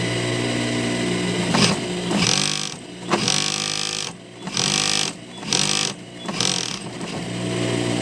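An old, long-unused sewing machine runs in bursts, its motor whirring and clattering rhythmically while stitching, stopping briefly several times before starting up again, loud and close.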